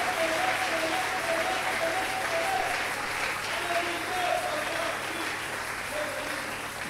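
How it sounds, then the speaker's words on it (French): A church congregation applauds in sustained, dense clapping through the whole stretch, with a voice faintly calling out over it. "j'aimerais qu'on acclame le Seigneur."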